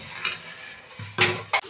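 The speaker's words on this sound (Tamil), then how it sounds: "எங்க மக வந்து பாத்திரம் உடைக்கிட்டு இருக்குது." Dishes and pots clatter and clink in a kitchen, a few sharp knocks and rattles close by, with a louder clang near the end.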